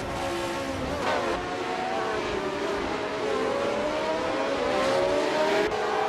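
A McLaren M19A racing car engine in a racing video game, revving and climbing in pitch as it accelerates, loud and continuous throughout with no talking.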